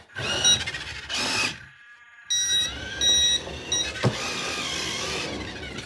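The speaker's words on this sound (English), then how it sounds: "You can actually turn the beeping off as well when you go backwards" An RC forklift's reversing beeper sounds in loud, repeated electronic bursts, mixed with whirring motor noise and a brief click partway through.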